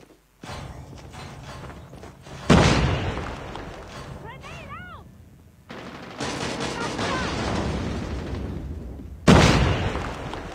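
Grenade explosions in Call of Duty Mobile burst out as loud, sharp booms with decaying rumbles, two standing out strongly amid ongoing gunfire and mechanical game effects, with some speech-like game audio in the mix.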